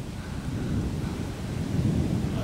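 Low, steady rumble of thunder rolling through a storm, heavy and continuous with faint rain-like hiss above it, no voices.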